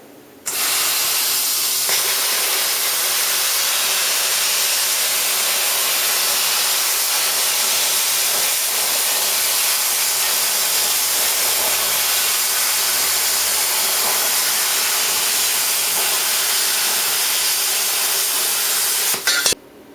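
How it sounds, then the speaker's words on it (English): A plasma cutter cuts rusty steel with a loud, steady hiss close by that runs unbroken for about seventeen seconds before it abruptly stops. No talk is heard over it. "we'll kick the plasma cutter in the guts, and I'll show you the difference"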